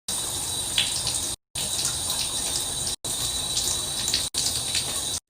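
Shower water runs steadily in a bathroom, a broad continuous hiss of falling water, near and fairly loud, broken by a few brief gaps.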